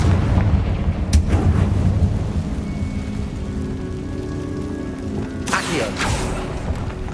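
Confringo fire-blast spell explosions in Hogwarts Legacy inside a spider-infested tomb: a couple of sharp blasts with rumbling, crackling debris settle into a low roar, then a final burst near the end.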